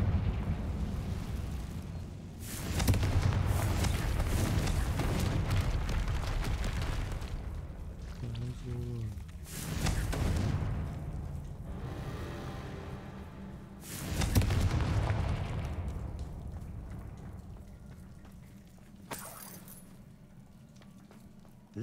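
Confringo fire spell explosions in the video game Hogwarts Legacy, a series of heavy booming blasts at intervals, each swelling loudly and then rumbling away into quieter echoing stretches.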